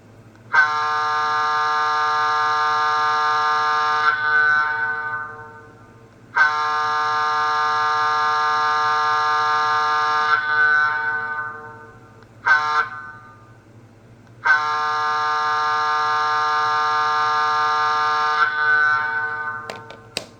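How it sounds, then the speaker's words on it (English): A model Pennsylvania Railroad GG1 locomotive's DCC sound decoder horn sounds four times: three long chord blasts and one quick short toot, each steady and loud against a faint low hum. "And this is the horn."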